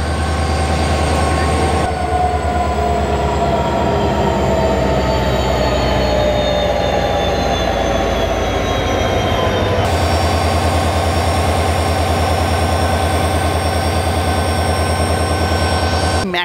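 A diesel locomotive coupling onto the Kolkata–Sairang train gives off a loud, steady droning hum with layered engine tones, shifting in character about two-thirds through, with no talk.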